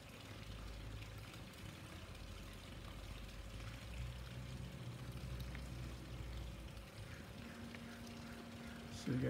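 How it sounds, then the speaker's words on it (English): A DIY solar pool heater pump runs with a steady low hum while water pours and streams out of the system, a continuous outdoor wash of flow that stays even until a brief clunk at the very end. "I'm gonna manually turn the pump on here."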